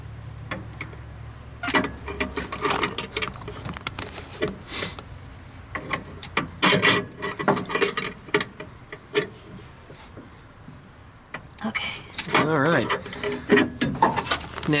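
A brake line fitting on a 1971 VW Karmann Ghia is tightened with a wrench, giving a run of small metallic ticks and ratcheting clicks close by, with people talking intermittently over the work.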